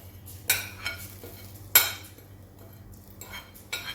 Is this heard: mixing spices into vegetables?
yes